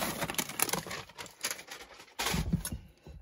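Reinforced tape being peeled off a parcel, heard close up as rasping, crackling bursts of tearing with short pauses between pulls.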